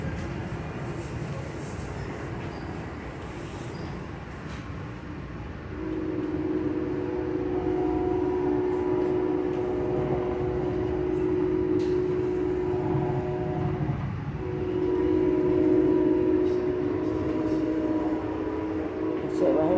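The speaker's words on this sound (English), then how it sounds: "see how fast this train is going." Inside an Amtrak passenger train in motion: a steady rumbling roar with a droning hum that swells and grows louder partway through, heard continuously from within the car.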